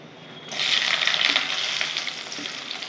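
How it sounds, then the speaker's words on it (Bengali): Dry red chillies, onion, garlic and green chillies hit hot oil in a pan with a sudden loud sizzle that settles into a steady, close frying hiss. "শুকনো লঙ্কা দিয়ে দিলাম, এখানে পেঁয়াজ, রসুন, কাঁচা লঙ্কা সব দিয়ে দেবো।"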